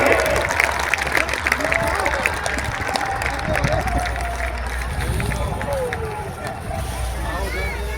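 A large crowd claps during an outdoor Sanatan Ekta padyatra rally, sustained and somewhat distant, under a loud speaking voice and general crowd babble.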